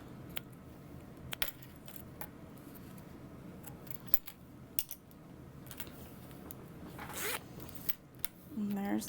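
A zipper runs on the big zippered pocket of a sewn Champion Bag, a series of faint, quick rasping pulls and clicks against quiet room noise, with a louder rustle toward the end.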